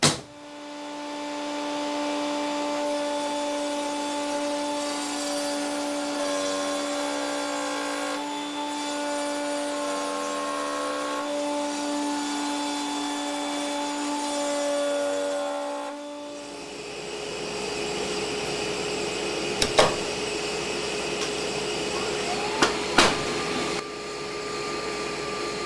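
A router table cuts a mortise in a wooden table leg, starting as a loud, steady motor drone with a strong constant tone that drops to a quieter hum midway, with a few sharp knocks and clicks near the end.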